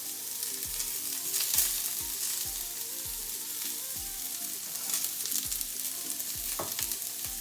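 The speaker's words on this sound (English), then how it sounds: "I can saute my onions right next to it" Onions sauté in a hot pan beside a vegan burger, a loud steady sizzle broken by repeated scraping stirs of a utensil against the pan.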